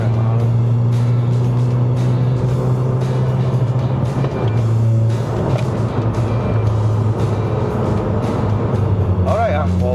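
A Suzuki Swift Sport ZC33S with a six-speed manual gearbox accelerates on a Malaysian road, its engine a loud, steady drone throughout with a brief shift in tone midway while someone talks over it.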